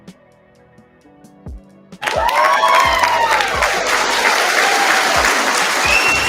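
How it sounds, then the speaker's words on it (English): Quiet tones give way to a sudden burst of loud, sustained crowd applause with cheering and whoops at a spoken-word and music gathering, the clapping dense and steady until the end. "let me give you a great round of applause"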